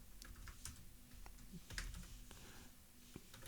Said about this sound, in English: So right now I'm just going to type it out right now.